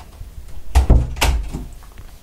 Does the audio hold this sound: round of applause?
no